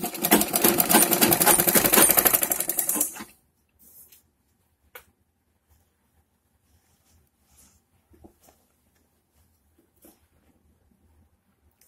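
Sewing machine stitching a full Patiala salwar: a rapid, rattling run of stitches for about three seconds, then stopping, followed by scattered faint clicks and handling noises in near silence.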